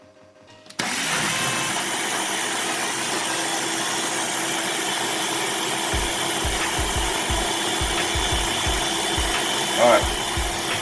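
A blender whirs loudly and steadily as it purees garlic and roasted red pepper marinara, running without pause after a sudden start, with faint low knocks partway through.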